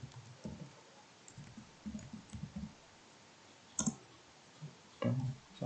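Keys on a computer keyboard click in short, sparse bursts while an order entry is typed into a desktop program, close and quiet, with pauses between groups of keystrokes.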